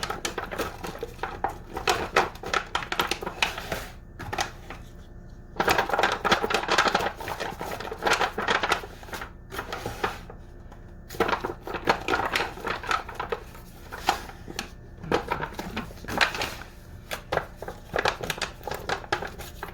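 Metal baking pan for focaccia being slid across a countertop and buttered, scraping, clinking and rubbing noises in irregular bursts, close and fairly loud, with quieter gaps between.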